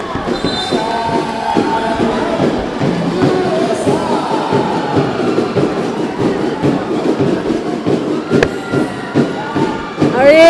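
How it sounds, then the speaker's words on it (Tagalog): A noisy basketball crowd at a college game packs the hall with steady roaring, shouts and tonal horn-like blasts. The din rises and falls without a break and swells again near the end. "Ang ingay-ingay na ng ating crowd"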